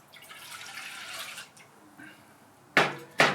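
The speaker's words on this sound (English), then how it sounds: "get you a cup and a half of hot water" Hot water pours into a cup for an onion pickling brine, a soft running splash that fades out, followed by two sharp, loud knocks or splashes close by near the end.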